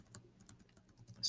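Computer keyboard typing, a quiet run of soft, irregular key taps close by, ending in a brief louder burst of noise.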